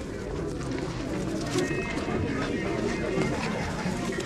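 Pigeons coo at a busy outdoor pigeon market in Bangladesh, their soft throaty calls mixed into a dense crowd babble with people talking nearby throughout.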